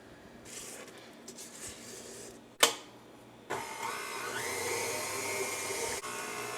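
An electric mixer whirs steadily through cookie dough, a sharp knock breaking in midway before the motor picks up again louder and more strained, running continuously with no talking.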